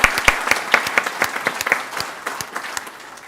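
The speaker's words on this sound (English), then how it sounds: "Let's do a round of applause for Eric at this time." At a county commission meeting, an audience applauds a retiring county employee, with sharp individual claps standing out over a steady wash of hands, loud at first and gradually fading over a few seconds.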